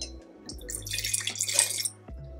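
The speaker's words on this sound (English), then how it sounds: "Let me pour some more." Cheap peach wine pours into a glass in a steady splashing trickle lasting about two seconds, close and fairly quiet, with no talking.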